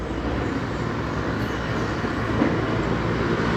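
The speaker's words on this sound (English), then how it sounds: "every time I look over here like this, that train just happen to be passing by" A train passes by in Medellín, Colombia, a steady, fairly loud rumbling roar of rail cars that holds evenly throughout with no talk.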